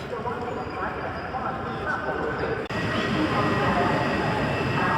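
The Korfanty passenger train from Białystok to Bielsko-Biała Główna rolls into Warszawa Zachodnia station with a loud, steady rumble heard from behind glass, growing slightly louder partway through, with talk over it.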